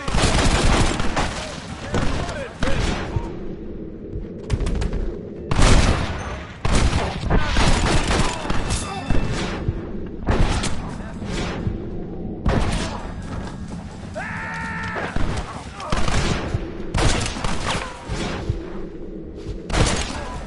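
Dense gunfire crackles through a shootout in the video game Red Dead Redemption, with repeated bursts and heavy booms spread across the whole stretch, loud and close, while voices shout now and then between volleys.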